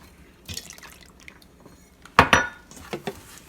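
Utensil clinks and scrapes against a mixing bowl as pancake batter made with milk is stirred, with a sharp louder clatter midway and a few lighter taps after, otherwise fairly quiet.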